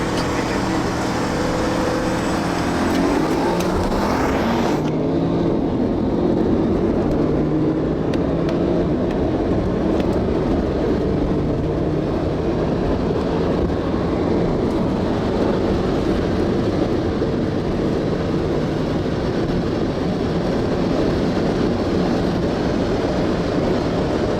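A 500 HP Porsche 997 911 Turbo PDK races a 700 HP HGP Golf R Biturbo with an R36 engine, a continuous loud engine roar with a rising tone early on, then a sustained drone throughout.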